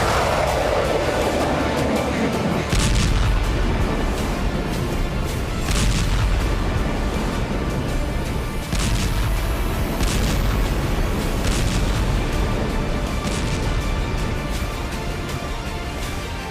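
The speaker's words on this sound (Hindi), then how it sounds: "एक धमाका और रूसी टैंक तबाह।" Explosions striking a Russian tank in Ukraine war footage: loud, continuous rumbling blasts with several sharp booming impacts close together.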